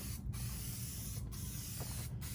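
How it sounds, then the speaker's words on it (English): Loctite spray adhesive is sprayed onto wood from an aerosol can in a steady close hiss, broken by three very brief pauses. "And then you're just going to spray a nice coat on there."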